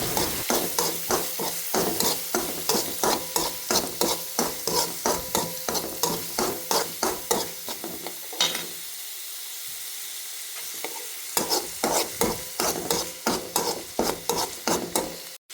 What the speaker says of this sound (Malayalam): ഇനി ഇതിലേക്ക് വെളുത്തുള്ളി ഇഞ്ചി ഇട്ട് മൂപ്പിച്ചെടുക്കാം ചോപ്പ് ചെയ്ത് വെച്ച് ചെറിയുള്ളി ഇട്ട് കൊടുക്കാം ഇനി ഇതെല്ലാം കൂടി ഒന്ന് വഴറ്റിയെടുക്കാം